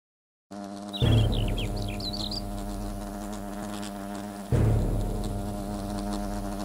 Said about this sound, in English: Wasps are attacking the picnic area.